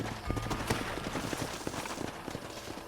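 Horses' hooves clip-clop steadily in Red Dead Redemption, several mounts walking close by in a dense, continuous patter over a low ambient rumble.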